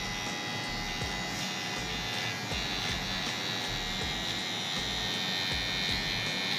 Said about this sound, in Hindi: ये हमारी ट्रिमर है, यहाँ से इतनी ही चलानी है